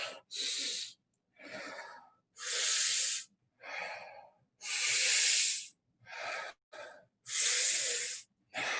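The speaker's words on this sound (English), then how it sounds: "Strong inhales, filling our lungs." Strong, rapid inhales during a guided breathing exercise, roughly a dozen loud, close breaths in an uneven rhythm, each one sharp and breathy, sometimes in quick pairs, with no talking.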